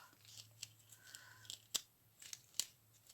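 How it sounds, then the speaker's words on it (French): Scissors snip through paper while making a card, a series of small, sharp, quiet cuts spaced irregularly, with a few crisper clicks standing out against a faint background hum. "Ciseaux."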